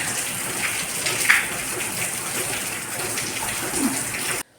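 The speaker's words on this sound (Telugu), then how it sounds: "వర్షం వస్తుంది చూడండి నేను చూపిస్తున్నాను వర్షాన్ని" Rain falls steadily outside a house, a continuous even hiss of drops with a faint drip or two standing out. No one speaks.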